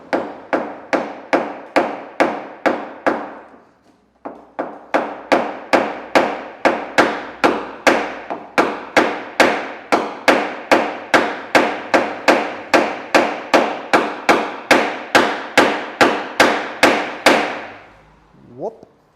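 Steady, rhythmic hammer taps on thin car-body sheet metal during dent repair, about two strikes per second, loud and close, with a short pause early on and a faint noise at the end.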